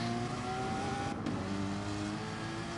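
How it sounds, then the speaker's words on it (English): Racing video game on the Dragon Trail circuit: a battle-scarred Porsche race car's engine drones steadily and loudly, with a passing swell of revving midway and other cars audible behind it. "here comes MacGyver again in the battle-scarred Porsche"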